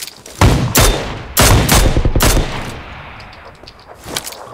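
Shotgun blasts in an online shooter game, three loud, close booms in quick succession with ringing tails, followed by quieter scattered shots as the echo fades.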